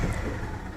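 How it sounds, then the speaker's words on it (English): A 2004 Club Car Precedent gas golf cart engine runs steadily at close range, a continuous, even mechanical hum and rumble with no voices over it. "When the engine actually fires and it runs like it just did"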